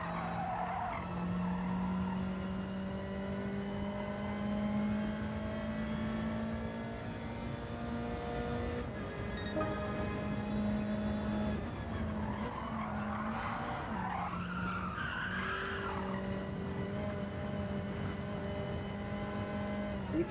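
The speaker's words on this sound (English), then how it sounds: "You could hear there the tyres gave out and then it went to the left and put me onto the gravel." Tyres skid and lose grip on a Caterham in Gran Turismo 7, a sustained high squeal over a steady engine drone lasting many seconds, with a rougher scrabbling burst partway through.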